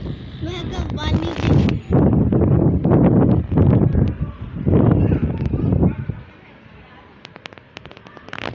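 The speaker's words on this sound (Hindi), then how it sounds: "ये देखिए इतनी तेज हवा" Strong wind during a dust storm in Karachi buffets the microphone in loud gusty roars while a person talks over it, then the gusts ease to a lighter rustle.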